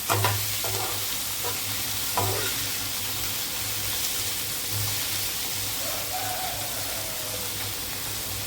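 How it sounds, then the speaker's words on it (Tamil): Brinjal pieces are sautéed in a pan without water, making a continuous close crackling sizzle with faint stirring scrapes and a low steady hum throughout. "இதுலேயே வதக்கி கத்திரிக்காய் வந்து வேகணும்."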